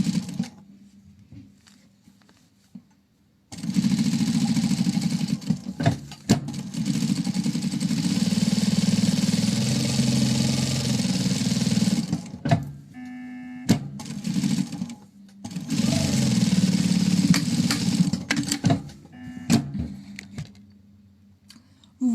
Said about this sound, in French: Et on va venir coudre les côtés et le bord arrondi et on laissera ouvert ici sur le côté.